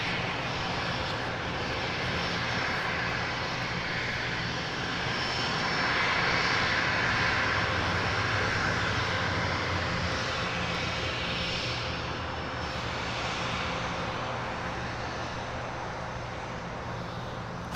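Bombardier Global 6000 business jet at LAX, its engines producing a sustained loud roar that swells slightly in the middle and then eases, with no voices.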